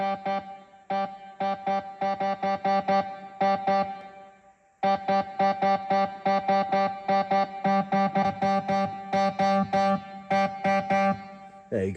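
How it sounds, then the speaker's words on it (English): A Yamaha PSR-SX920 keyboard plays a distorted voice through its distortion DSP effect, a rapid run of buzzy, harmonically rich staccato chords in bursts, pausing briefly before a longer second phrase, loud and close. "you've got that sort of really distorted sound there"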